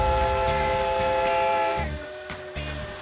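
China's last surviving steam train sounds a long, loud whistle over the steady rumble and clank of the rolling wagons, and the whistle cuts off partway through as the train chuffs on nearby.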